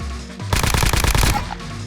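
A short burst of rapid automatic AK-47 fire in the shooter game Project Rebirth, roughly a dozen loud, evenly spaced shots lasting under a second before cutting off into a brief tail.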